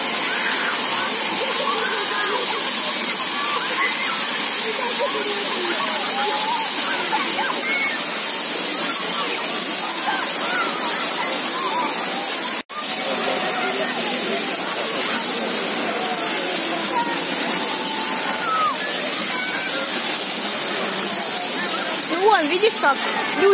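Steady splashing and rushing water of a musical light fountain in Kaliningrad fills the scene as a continuous broad wash, with people talking faintly in the background.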